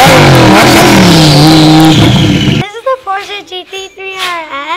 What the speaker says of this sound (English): There's the custom exhaust that I talked to you about. It sounds beautiful.